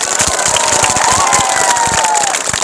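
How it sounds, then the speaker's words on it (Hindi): Outdoor crowd at a village cricket tournament event clapping and cheering loudly, with shouts, whistling and a rising whoop over dense rhythmic claps, close and energetic throughout. "एक बार जोरदार तालियां बजाइए"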